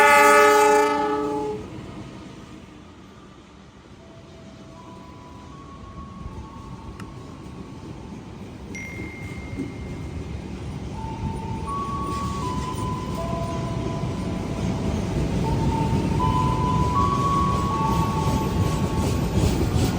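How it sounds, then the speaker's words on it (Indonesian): The Ranggajati passenger train from Cirebon to Jember pulls into a station: a loud horn blast opens, then the rumble and clatter of the approaching train build steadily and grow closer. "Ada kereta yang mau masuk yaitu kereta api Ranggajati dari Cirebon tujuan Jember."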